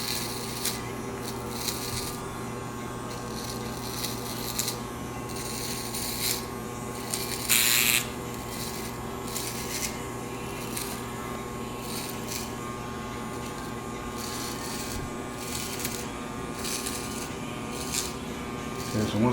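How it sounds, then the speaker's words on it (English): An electric hair clipper trims a customer's beard with the blade resting flat on the skin, giving a steady close-up buzz that runs unbroken throughout, with brief harsher rasping bursts as it cuts through the hair. "Resting your clipper right on the customer's skin."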